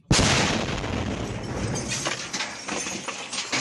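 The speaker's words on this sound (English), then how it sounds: "We see that explosion was incredibly close, and it appears that everyone ran inside." A close explosion in Ukraine war footage: an abrupt, very loud blast followed by several seconds of sustained broadband rumble and crackling debris noise, with no talking.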